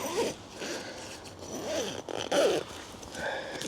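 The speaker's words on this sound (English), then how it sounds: "It's not easy doing zips with one hand, especially when the wind's blowing the storm flat back over." A tent zip is worked one-handed in windy weather, with repeated rasping pulls of varying length and tugging, close and fairly loud, with wind noise around.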